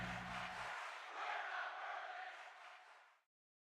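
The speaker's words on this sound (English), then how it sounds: "Crowd is loving it." Crowd at a wrestling show cheering and roaring in a dense, sustained wash of voices, loud at first then tapering off over about three seconds.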